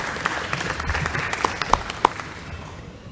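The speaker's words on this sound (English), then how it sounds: "We're not used to claps after we vote." A brief scatter of audience claps breaks out after a vote at a city council transportation committee meeting: a handful of sharp, uneven claps heard from across a large room, quiet and quickly fading.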